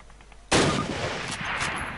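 A sudden loud gunshot blast from a weapon in Call of Duty after brief quiet, followed by a noisy rumbling tail and echoing debris.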